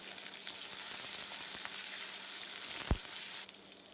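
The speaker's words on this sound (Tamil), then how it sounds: "அரிஞ்சு வச்சுருக்க வெங்காயம், பச்சை மிளகாய், கருவேப்பிலை போட்டு 1 நிமிஷம் ஃப்ரை பண்ணலாம்" Onion, green chilli and curry leaves frying in oil, a steady dense sizzle and crackle filling the whole stretch, close, with one soft knock near the end, and no voices.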